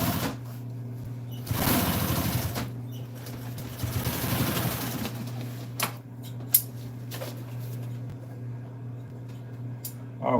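Sewing machine running a top stitch on a custom-fitted dog garment, with a steady motor hum and needle chatter in two longer bursts, then quieter handling clicks and short taps close by.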